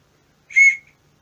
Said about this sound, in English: Don't know why I have a whistle in my fire kit,